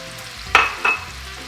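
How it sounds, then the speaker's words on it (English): Pear slices and a sprinkle of sugar dropped into melted butter in a pan for a pear Dutch baby, giving two short bursts of sizzling and clatter against a faint background hiss. "Now that the butter is all melted, I'm gonna add the pears and sprinkle in the sugar."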